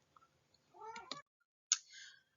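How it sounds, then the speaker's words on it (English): A house cat meows loudly indoors, two drawn-out cries about a second apart, close and clear against near silence, with a few faint clicks before them. "Sorry, my cat is screaming."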